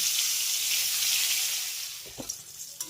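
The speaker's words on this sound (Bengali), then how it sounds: "একই রকমভাবে দ্বিতীয় ব্যাচের বেগুনটাকেও ভেজে নেব" Brinjal pieces fry in oil in a wok, a steady close sizzle that eases off slightly toward the end, broken by a couple of brief stirring clinks.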